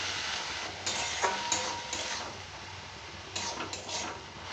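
Cumin and chili powder are stirred into greens frying in a pan, producing a steady sizzle with light spoon scrapes and occasional clinks throughout.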